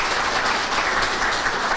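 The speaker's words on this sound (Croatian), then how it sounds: "koristim priliku da je jednim aplauzom pozdravite" Steady applause from an audience welcoming a guest filmmaker at a documentary film promotion, dense even clapping that fills the whole moment without a break.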